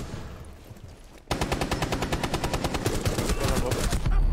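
Rapid automatic gunfire from Rainbow Six Siege, loud and sustained for about three seconds after a quieter start, with steady bursts of shots and a few voices in the background.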